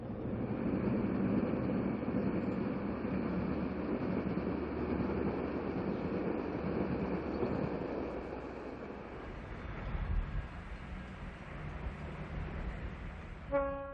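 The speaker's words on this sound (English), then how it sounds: "Train number 22, the Sioux, is not living up to its fast train status as it drifts slowly through Glenview." A diesel passenger train, the Sioux, drifts slowly through Glenview: a steady low rumble of engine and rolling cars fills the scene, easing off partway, with a brief horn toot near the end.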